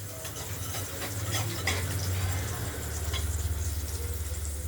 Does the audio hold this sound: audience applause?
no